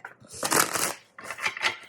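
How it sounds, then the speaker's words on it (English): Tarot cards being shuffled by hand in two quick bursts of riffling, crisp and close, with a brief pause between them. "let me do another shuffle and get what is being hidden"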